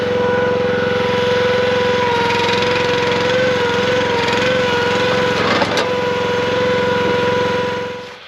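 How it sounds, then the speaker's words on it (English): Small engine on an upgraded log splitter running steadily after starting, a loud, constant buzzing drone with a strong harmonic whine, close up, holding even before cutting off at the end. "we're going to fire this thing off, let it warm up for a minute"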